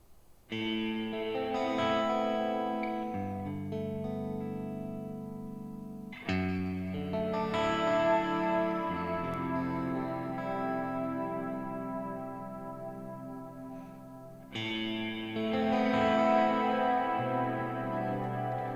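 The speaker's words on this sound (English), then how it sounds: "at toe down, I want it to be a much larger sounding reverb" Sustained electric guitar chords ringing out through an ILLUMINE reverb pedal swept by an expression pedal, a wide, swelling reverb tail that grows larger and smaller across three strummed passages, with no talking.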